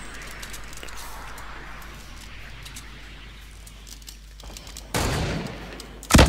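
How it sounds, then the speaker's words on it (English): Gunfire in the Fortnite video game, faint distant shots scattered over a low background at first, then a louder close burst and a sharp final shot. "I'm being shot by someone else."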